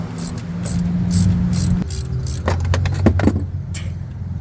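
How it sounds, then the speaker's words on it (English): Ratchet with an E-torque socket loosening the alternator bolts on a Mercedes E320 in a parking lot: rapid clicking ratchet bursts at close range over a steady engine and traffic hum. "Go ahead and grab your E-torque socket and ratchet. Just start cranking off these two here."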